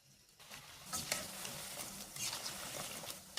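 Khurma sweets frying in hot white oil in a wok: a steady, close sizzle with crackling bursts that swells after the first half second and continues without speech.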